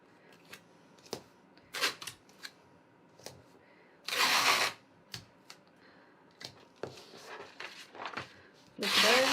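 Sticky tape is pulled and pressed onto paper pattern pieces for a tote bag, giving a scattered series of sharp crackles and rips with a couple of longer loud tearing strips, close and quiet in between.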